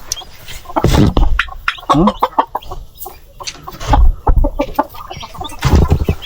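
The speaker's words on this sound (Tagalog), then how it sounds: "Yung ating mga pabo parang malalaki na" Turkeys and chickens on a small farm cluck and call close by in quick overlapping bursts, with a few louder squawks breaking through.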